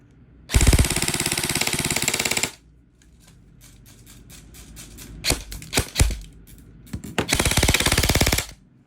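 An airsoft rifle fires on full auto during a velocity test: a long rapid burst, then scattered single and short-burst shots, then another sustained burst, all loud and close.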